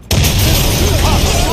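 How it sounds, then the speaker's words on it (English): A thrown grenade explodes in Mafia 3 with a sudden loud boom that becomes a sustained roaring blast, with voices mixed in. "I just like throw a grenade."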